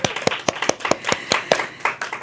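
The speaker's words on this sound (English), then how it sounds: "let's give him a round of applause" A round of applause at a church or community gathering, here thin and sparse, with a few distinct claps landing in a loose, fairly regular rhythm, close and crisp.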